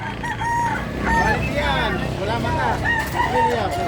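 Several roosters crow over one another amid clucking chickens, close and loud, with a busy, crowded flock murmuring underneath.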